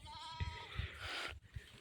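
A goat bleats a wavering, nasal cry lasting about a second, near and clear, with some low thumps and rustling around it.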